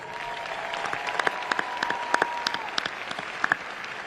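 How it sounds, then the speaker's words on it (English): Commencement crowd at Howard University with scattered, sparse claps popping out irregularly over a quiet background, a few sharper bursts standing out while a faint steady tone hums beneath. "Please give yourselves a warm round of applause."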